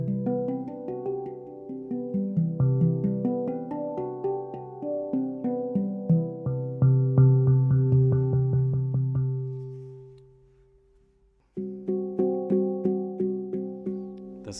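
A hang drum tuned to the Golden Gate note set rings out in clear, sustained metallic tones, notes struck one after another in a flowing melody, fading to near silence before a fresh phrase begins.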